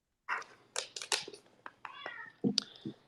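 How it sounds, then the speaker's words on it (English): A pet cat meows several times close by in a home during a live online call, a short run of varied, insistent cries with no talk over them. "I hear one of your cats."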